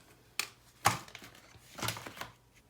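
Card stock trimmed on a paper trimmer, a few crisp clacks and a sharp slicing snap close up, spaced unevenly over a couple of seconds with quiet between them.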